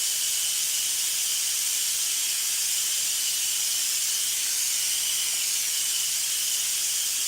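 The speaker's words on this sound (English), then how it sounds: "I just wanted to pre-start it so it could build up steam faster" Steady steam hisses without a break from a pressure cooker heating water, loud and close, with no talk.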